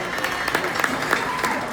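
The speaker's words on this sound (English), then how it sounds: "Give her a round of applause." Audience at the Philadelphia Tennis Club 100th Anniversary Celebration applauding Councilmember Cindy Bass, a brief burst of scattered clapping at moderate volume with some voices mixed in.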